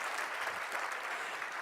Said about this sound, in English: give you guys yourself a round of applause